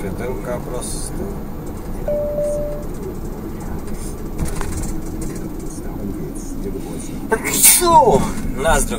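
A single sharp sneeze near the end, heard outdoors over steady rumbling background noise from a passing train and traffic.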